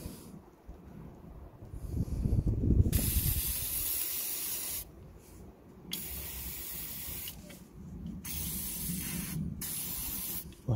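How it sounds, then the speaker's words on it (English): WD-40 sprays in several separate hissing bursts onto a car suspension clamp during a lower control arm job on a Mitsubishi Lancer, with short pauses between the close, sharp blasts. "Plenty of WD-40, no hesitation."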